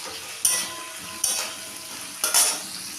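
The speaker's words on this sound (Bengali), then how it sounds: "প্রথমে আমি খানিকটা আলু কেটে নিয়েছি, আলুটা আমি ভেজে নেব" Cut potatoes fry in a pan with salt and turmeric: a constant close sizzle, broken by three sharp stirring scrapes, and no voices.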